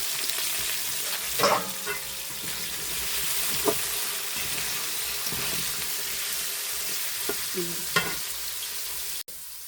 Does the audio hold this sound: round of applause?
no